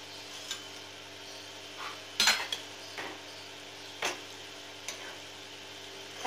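Fried Manchurian balls folded gently into a ready gravy in a pan: sparse light clicks and taps of a spoon against the pan, one louder scrape and clatter early on, quiet background hum between, close and without talk.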